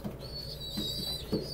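Pigeons cooing softly close by during hand-feeding with seeds, with low throaty coos repeating over a thin high tone.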